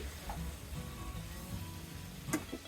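Spiny gourd and shrimp sautéing in an uncovered pan over medium heat, a faint continuous sizzle with a brief clink of a utensil near the end.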